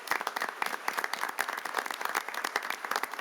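Applause at a city council meeting honoring seven new firefighters: a moderate, crisp patter of many hands clapping for a few seconds, fairly quiet and even, with no talk over it.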